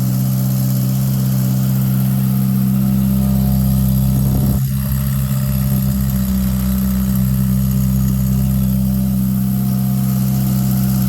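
The engine of a 63-year-old Ondine car idles with a loud, steady, low throb. A single brief knock sounds partway through, and no one speaks.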